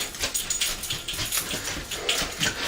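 Dogs whimper and whine for a bite of home-canned meat, a run of short, repeated high whines at close range, with no talk over them.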